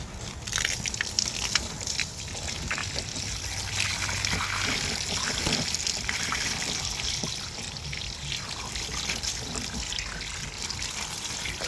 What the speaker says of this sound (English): And now we're about to go for the rinse.